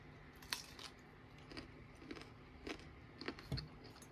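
Close, quiet crunching bites and chewing of an unfamiliar crunchy fruit, a series of soft irregular crisp snaps over a low background, with no talking.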